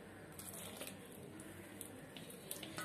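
Boiling water is poured a little at a time into idiyappam flour in a home kitchen, giving a soft, continuous trickling splash with faint wet squishing from the dough, quiet and close.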